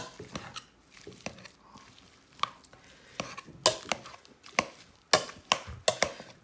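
Boiled potatoes are mashed in a pot for a varenyky filling, giving an irregular run of dull thuds and knocks that grows louder and more regular toward the end.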